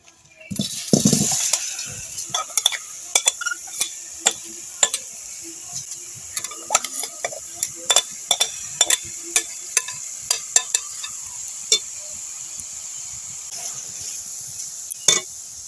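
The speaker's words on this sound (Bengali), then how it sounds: "এবার আমি আমটা কড়াইয়ের মধ্যে দিয়ে দেব। কড়াইটা গরম হয়ে গেছে।" Raw mango pieces drop into a hot, oil-free kadai for a sweet-sour mango pickle, giving a brief loud sizzle followed by steady, close clinks and scrapes of stirring.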